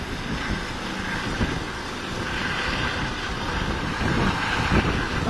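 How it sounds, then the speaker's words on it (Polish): A steady, loud air ambulance helicopter roar mixed with gusting wind noise as it takes off in Warsaw, swelling slightly toward the end. "Właśnie jest podmuch wiatru i helikopter startuje."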